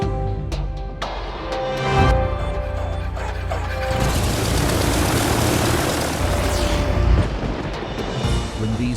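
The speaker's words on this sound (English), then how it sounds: "When these engines roar," Piston propeller engines of a B-29 bomber roar loudly and steadily, with a lighter, clattering start before the sound swells into a broad, dense drone that holds to the end.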